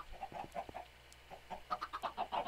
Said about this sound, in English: Got some chickens really loud here.